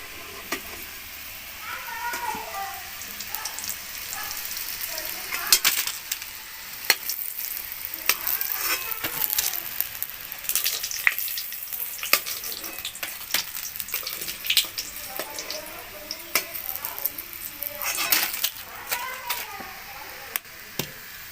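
Vegetable chops sizzle steadily in hot oil, a continuous crackling fry with scattered sharp pops and clinks of utensils, fairly close.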